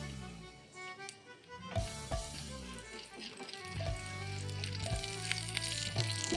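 Bay leaf, dried chilli and five-spice tempering sizzles and crackles in hot oil, a steady close frying hiss with a few sharp pops scattered throughout.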